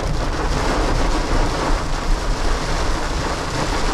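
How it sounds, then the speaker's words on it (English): Heavy rain in a big thunderstorm roars loudly and continuously, with low rumbling thunder blended into the dense downpour throughout. "We are in the middle of a pretty big thunderstorm, more of a rainstorm."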